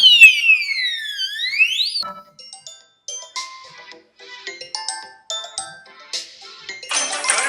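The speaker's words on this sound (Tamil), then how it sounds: "பஸர் அடிக்கிறது பாருங்களேன்." Smart locker security alarm buzzer set off when the locker is lightly shaken: a loud sweeping electronic siren tone for about two seconds, followed by scattered electronic beeps and chimes and a burst of hiss near the end, with no speech.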